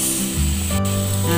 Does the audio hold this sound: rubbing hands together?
no